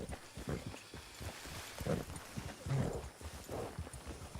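Hooves of a horse ridden bareback clop at a walking pace in a video game, soft, irregular thuds at moderate distance, with faint low voices in the background.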